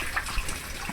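Water rushes at a monsoon-season waterfall at Rangana fort, a dense continuous gushing roar heard up close for a brief moment.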